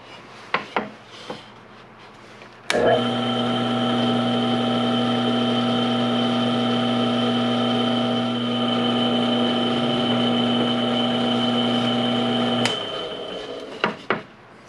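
A power drill drives screws into pine for a wooden duck build: a steady whirring motor runs for about ten seconds, framed by short clicks and knocks of handling before and after, close and fairly loud.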